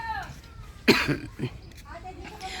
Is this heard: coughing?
yes